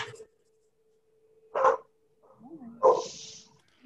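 Two short, sharp dog barks a second apart over near silence, with a faint steady hum and a soft high whine between them.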